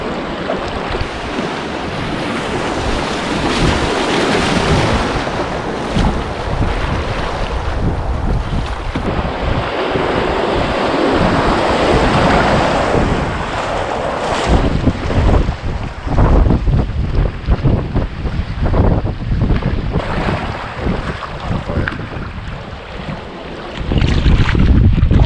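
Water of the split Partridge River rushing and lapping past a canoe, a steady broadband wash with wind buffeting the microphone, loud and close throughout, with surges near the end.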